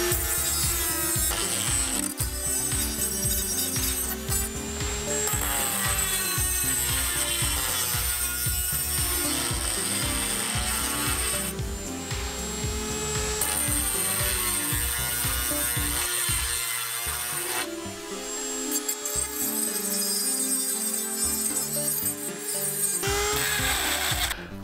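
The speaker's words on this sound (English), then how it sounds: "we're gonna put that on the Dremel and we are gonna sand them holes out" A Dremel rotary tool fitted with a mushroom sanding tip sands out the holes in a homemade can stove, making a steady, loud, high-pitched whir that shifts in pitch as it bites into the metal.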